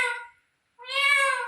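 A pet parrot mimics a cat's meow in two short harmonic calls separated by a brief silence, the second longer and louder, heard close and clear with no talking.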